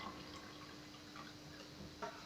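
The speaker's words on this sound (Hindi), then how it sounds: "अब हम इसमें थोड़ा थोड़ा हम पानी डालना प्रारंभ करते हैं" Water is poured little by little into a glass for a classroom light refraction demonstration, a faint, quiet trickle and drip with a small splash near the end, no voices.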